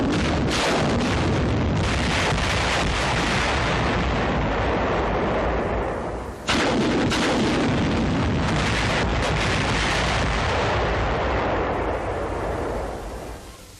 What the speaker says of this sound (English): 10 rockets are fired at the pillbox.